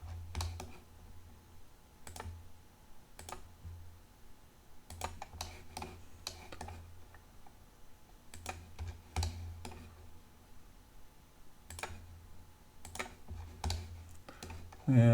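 Keystrokes on a computer keyboard while drawing a guitar top in CAD software, arriving in short separated bursts of clicks at close range with a low hum underneath.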